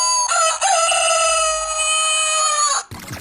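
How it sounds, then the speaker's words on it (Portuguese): A rooster crow from a Silvio Santos talking alarm clock recording, one long, loud, bright cock-a-doodle-doo held for nearly three seconds before cutting off abruptly into brief noise. "sentia saudade daquele galo cantando na madrugada para te acordar"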